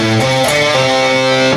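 Distorted electric guitar plays a quick riff with pull-offs from a guitar solo, loud, dense and close, with no talking over it.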